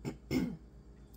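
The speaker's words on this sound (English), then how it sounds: "I keep having to clear my throat." A person clearing their throat, two short rough guttural bursts close to the microphone, separated by a brief pause, followed by quiet and a faint breath.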